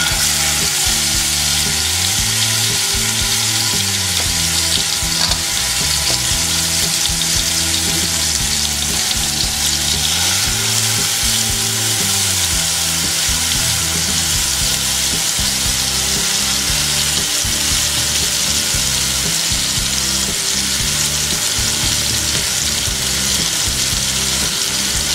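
Marinated tandoori chicken cooks in a pan on a low gas flame with a continuous, loud sizzle and occasional stirring, while music plays underneath.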